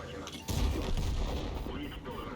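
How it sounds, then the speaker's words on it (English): A loud tank cannon shot in World of Tanks, fired from an IS-3A heavy tank, bursts in sharply and rolls on as a sustained boom filling the rest of the moment. "But he'll finish him off now with 1 shot."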